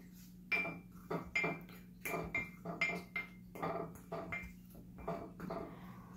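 A spoon clinks and scrapes against a cup while mixing powdered sugar for homemade hot chocolate, in quick irregular strokes, close and fairly quiet.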